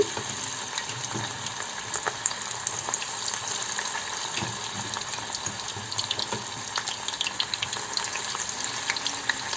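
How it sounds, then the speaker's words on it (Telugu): Jackfruit pieces deep frying in a pan of hot oil for a jackfruit masala curry, a steady dense crackle and bubbling sizzle that continues without a break and with no talking. "అందులో ఈ పనసకాయ ముక్కలు వేసుకొని డీప్ ఫ్రై చేసుకోవాలండి"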